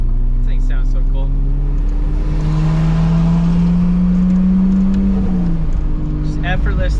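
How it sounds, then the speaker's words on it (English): Single-turbo 2JZ Toyota Supra MkIV cruising through traffic, a loud steady engine drone rising in pitch as it pulls past other cars, with turbo whoosh and exhaust note blending in and a voice talking over it. "Just effortlessly passing people in traffic, and turbo noises, exhaust noises."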